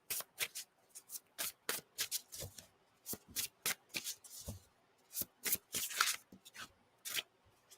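Playing cards being handled and shuffled, a fast run of crisp riffling bursts and flicks separated by short pauses, close and alone.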